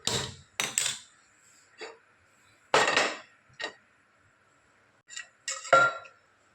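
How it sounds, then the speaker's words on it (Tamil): A cooking pot set on a kitchen stove while making plain salna gravy gives a few sharp metallic clanks and knocks, separated by quiet gaps, close by and fairly soft. "இப்போ நான் ஸ்டவ்வில் ஒரு பாத்திரம் ஒன்று ஏற்றிக்கிறேன்."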